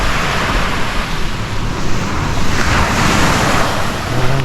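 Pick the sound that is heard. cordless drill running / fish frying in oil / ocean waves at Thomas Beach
ocean waves at Thomas Beach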